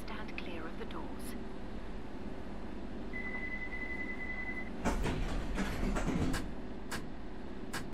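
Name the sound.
London Underground train in a video game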